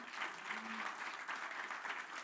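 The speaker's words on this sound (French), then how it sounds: "Un applaudissement aux organisateurs" A conference audience at a French tech talk gives a round of applause for the organisers, steady even clapping from many hands, fairly faint and distant.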